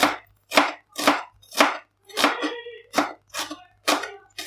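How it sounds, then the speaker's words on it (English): Onions being sliced with a knife on a board, about eight evenly spaced, crisp close chops with short pauses between them. "I'm gonna slice up some onions"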